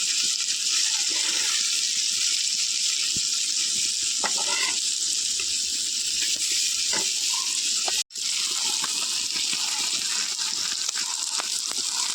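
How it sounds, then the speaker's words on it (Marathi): Squid sautés in a pan for a Konkani-style village fry, giving a steady bright hiss of sizzling with a few soft stirring scrapes, close and continuous, briefly cut off near the middle. "किरकोळीत हे सगळं परतून घेतो"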